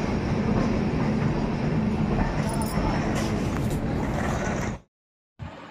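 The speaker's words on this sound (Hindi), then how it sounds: "ट्रेन आसीगला न जीवार लगे" A passenger train pulling into a station at night: a steady, loud rolling rumble with people talking over it, cutting off abruptly near the end.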